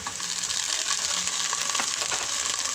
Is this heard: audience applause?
no